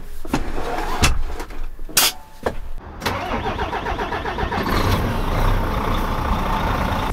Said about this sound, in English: as I just pull out the trailer here